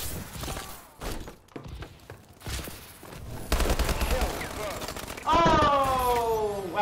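Bursts of gunfire ring out in a first-person shooter video game, with rapid shots and impacts mixed with other game effects, loud and close.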